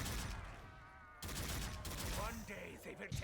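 Weapon fire in a zombie video game: a fast, dense spray of shots after a brief quieter stretch, loud and continuous, with a voice speaking under it.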